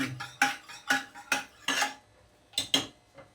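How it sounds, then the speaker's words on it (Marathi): Dal is mixed and mashed in a metal pot over the flame, a series of sharp clanking and scraping strokes of a utensil against the pot in irregular bursts, close and clear. "मस्त फ्लेम वरती मिक्स करूया एकदम असं मॅश करून घ्यायचं"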